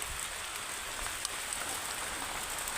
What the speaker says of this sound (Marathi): आणि बा आता पाऊस आलाय.